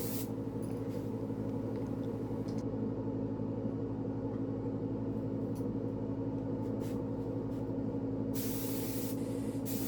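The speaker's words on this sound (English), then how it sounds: "I'm spraying a little amber on the binding to tone it down a bit" A spray gun hisses steadily, laying amber lacquer onto the binding of a badly damaged guitar under restoration inside a homemade grow-tent spray booth, with a low rumbling drone beneath and brief bursts of stronger spray.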